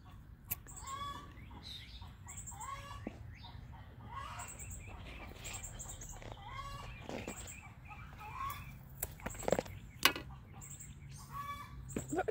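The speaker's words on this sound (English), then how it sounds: "Some chickens probably getting ready to lay an egg." Hens cluck and call on and off, fairly faint against a low outdoor background hum, with sharp clicks and rustles in between, as chickens seem to be getting ready to lay eggs.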